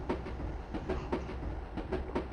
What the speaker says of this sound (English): the track sounds do not relate at all to whether there's a train running anywhere around